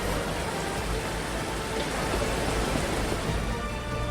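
Heavy rain pours steadily in Udhampur, Jammu and Kashmir, a dense, continuous hiss of downpour on surfaces filling the whole scene with no voices.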